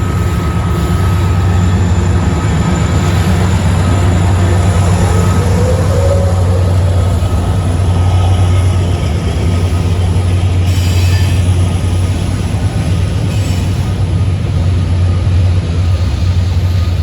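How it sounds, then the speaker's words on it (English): An eastbound Norfolk Southern intermodal freight train rolls past at Berea, Ohio, a loud, continuous low rumble of wheels and cars with a faint squeal, close by and unbroken for the whole stretch. "Next NS train to come into view was an unknown NS eastbound intermodal train"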